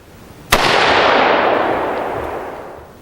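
A single sharp AR-15 gunshot fired through a Dead Air key mount muzzle brake cracks loudly and close, followed by a long, bright ringing decay that fades over a couple of seconds.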